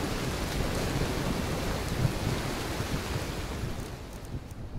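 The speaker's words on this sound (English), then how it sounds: "Oh, great, it's raining." Rain and rumbling thunder in the video game Skyrim Special Edition, a dense, steady wash of rainfall with low rolling thunder underneath, fairly loud and without talk.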